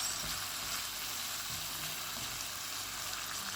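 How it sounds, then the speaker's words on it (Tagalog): Tomatoes fry in a pan with a steady, dense sizzle and crackle that fills the whole stretch evenly, close and moderately loud, with no talking. "Tayo na natin maluto yung ating kamatis."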